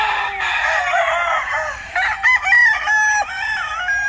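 A straight comb brood cock gamefowl crowing loudly and close by, one long strained call with warbling, rising and falling tones that breaks off near the end.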